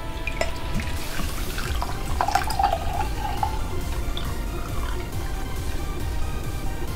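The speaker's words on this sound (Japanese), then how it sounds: "では早速注いでいきたいと思います。" Georgia Special Black coffee pours from a small bottle into a cup, giving a close, gurgling trickle with a few bright splashes and drips against a quiet background.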